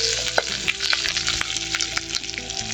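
Spices and curry leaves sizzle and crackle in hot oil for village-style blackened chicken, a steady dense frying hiss with scattered sharp pops and stirring scrapes throughout, close and fairly loud with no voices.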